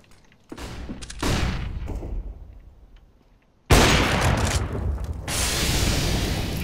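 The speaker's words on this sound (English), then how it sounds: "Throwing flashbang." A flashbang grenade in Counter-Strike: Global Offensive bursts with a sudden loud, sharp crack, preceded by softer thuds and followed by a sustained roar of noise.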